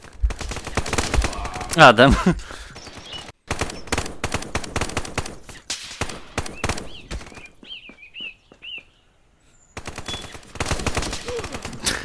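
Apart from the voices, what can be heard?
gunfire in the VR video game Contractors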